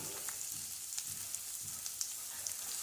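Chopped banana stem pieces fry with onions in a pan, making a soft, steady sizzle dotted with small crackles and pops, close up and with no talking.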